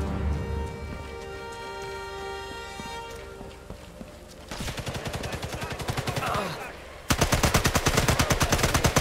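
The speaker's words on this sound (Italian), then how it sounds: "Sentite gli spari." Rapid bursts of automatic gunfire crackle loudly, with sustained rattling volleys in the second half over a busy background of game effects.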